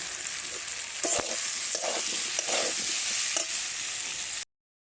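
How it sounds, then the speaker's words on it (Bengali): Spices sizzling in a pan over a clay stove while a spoon scrapes and stirs in irregular strokes, steady frying hiss throughout until it cuts off. "মশলাটা প্রায় ভাজা হয়ে গেছে"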